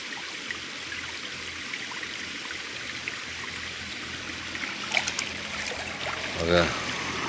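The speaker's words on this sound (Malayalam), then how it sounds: "ഇവിടെ കുറച്ച് വെള്ളമൊക്കെ ഇങ്ങനെ ഒഴുകി വരുന്നുണ്ട്" Water flowing and trickling at an outdoor car-wash spot, a steady soft stream across the clip with a few brief louder splashes near the end.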